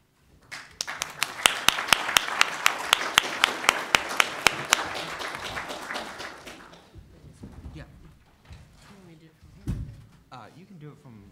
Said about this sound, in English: thank you all for the applause earlier